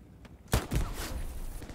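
Gunfire in the World War II shooter Hell Let Loose: after a quiet start, a sharp nearby shot lands, followed by a burst of further shots and rumbling echoes that linger, with no talk.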